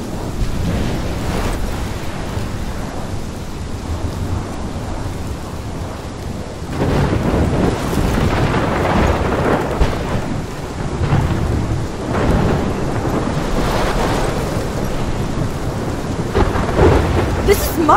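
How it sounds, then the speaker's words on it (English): Thunderstorm in the Life Is Strange video game: steady loud rain with rolling thunder rumbles swelling and booming throughout, a strong crack arriving partway in, with no talking. "My storm!"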